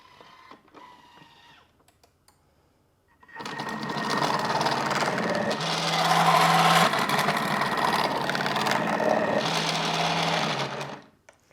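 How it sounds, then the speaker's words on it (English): A Thermomix cutter attachment slices zucchini with a loud whirring, grinding motor drone lasting about seven seconds, preceded by brief speech. "Within 5, 6, 7 seconds, we cut 2 zucchinis into slices."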